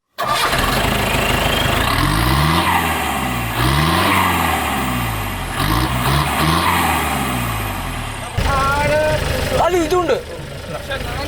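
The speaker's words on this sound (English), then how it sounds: "This is our exhaust system, and the Jeep purrs with this one" A Mahindra MM540 Jeep with a new exhaust system cranks and fires, then revs up and down in several loud, close surges before dropping back to a rumbling idle, with people talking over the engine.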